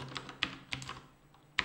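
Quick, light clicks of typing on a computer keyboard, a handful of close, crisp keystrokes in an irregular burst with short pauses between them.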